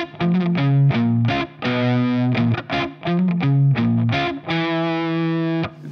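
A distorted electric guitar plays a slow Phrygian riff of choppy, palm-muted chords and held notes in a steady rhythm, loud and alone, ending on a sustained ringing chord.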